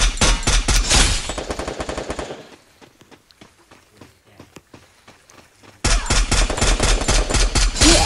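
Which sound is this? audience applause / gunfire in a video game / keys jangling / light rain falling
gunfire in a video game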